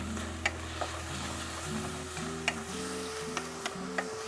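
A spoon stirs béchamel sauce and meat in a pan over a soft, steady sizzle, with a few light ticks and scrapes of the utensil against the pan, quiet and without talk.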